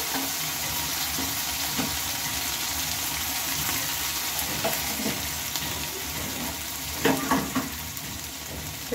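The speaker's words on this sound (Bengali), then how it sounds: "ধনে পাতাটা মশলার সাথে ভালোভাবে মিশিয়ে নিতে হবে।" Frying spice masala with chopped coriander leaves being stirred through it in a pan, a steady loud sizzle with scraping stirs and louder clatter near the end, for a soybean curry; no talk.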